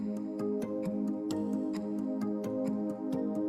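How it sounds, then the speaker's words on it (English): A sustained, dark swell pad from Logic's Retro Synth holds steady chords while crisp ticking percussion clicks in a regular rhythm on top. "So I've gone to the retro synth in Logic for these pads"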